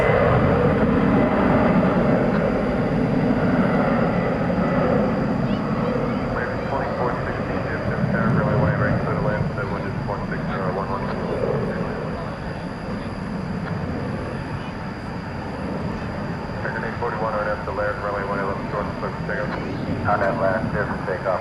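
A plane taking off at night at DFW Airport, a broad steady engine roar filling the whole stretch, with someone talking and air traffic radio chatter over it.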